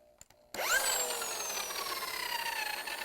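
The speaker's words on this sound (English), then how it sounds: "turn on the drill." A power drill starts abruptly after a few faint taps and runs steadily at high speed, spinning a clay pot for painting, whining loudly, its pitch settling slightly as it spins.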